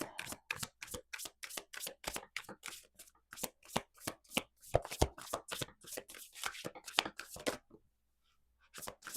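Tarot cards are shuffled in rapid, crisp riffles and taps, a long rhythmic run of sharp snaps up close, pausing briefly near the end.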